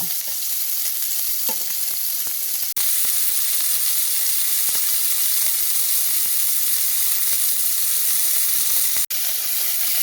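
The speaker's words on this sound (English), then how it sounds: "I'll sear them on the outside and then I'll finish baking them off." Meat searing in a hot skillet gives a loud, dense, continuous sizzle and hiss, close up, with a couple of sharp brief breaks and faint clinks, no voices.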